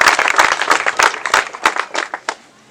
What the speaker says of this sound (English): I want us to give her a big round of applause.